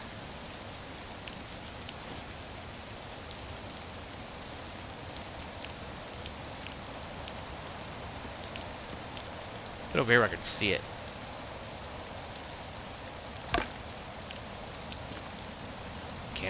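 Steady, soft rainfall hisses continuously in the voxel survival crafting game Rising World, a constant wash of drops under a man's brief spoken remarks and a couple of short sharp noises.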